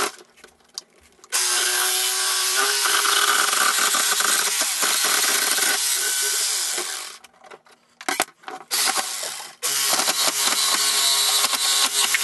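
Power tool cutting pieces of pallet wood in a workshop for a bookshelf build, loud sustained whining bursts of several seconds separated by short pauses with clattering of handled boards.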